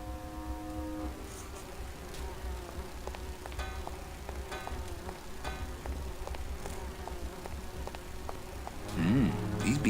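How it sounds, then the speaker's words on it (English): Continuous insect buzz of bees in the Grim Fandango game world, a steady drone with light rustling on top, holding evenly throughout before getting louder near the end. "These bees don't seem too busy."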